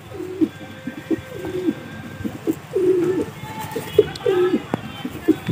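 Pigeons at a pigeon sale coo repeatedly in short, throaty phrases nearby, with several birds overlapping amid background crowd murmur and a few faint chirps.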